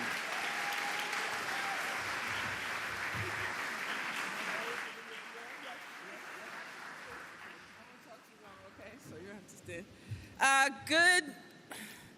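An audience at a New York state government event applauds for several seconds, the steady clapping then thinning and dying away as a voice and other noises take over near the end.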